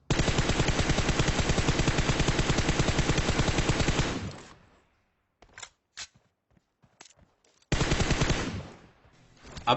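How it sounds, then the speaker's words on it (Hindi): Rapid automatic gunfire in the video game PUBG Mobile, a loud sustained burst of rhythmic shots, then a few scattered single shots, then another long continuous burst near the end. "अब देखना इस गाड़ी पे मैं फायर करूंगा"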